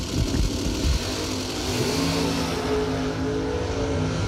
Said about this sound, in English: Nice wheelie out of Kenny's Firebird.